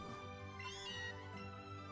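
A single drawn-out cat meow from the Pokémon Let's Go video game rises and falls over soft background music.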